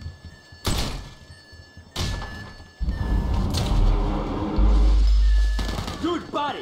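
A door in the video game GTA 5 during a bureau raid mission, heard as a few heavy thunks and bangs mixed with loud game effects, rumble and gunfire-like bursts, with voices intermittently over it.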